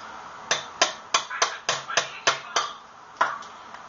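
A pin is hammered into a Retaliator toy blaster: about ten sharp, close taps land in a steady rhythm, then a short pause before two more blows. No voices are heard.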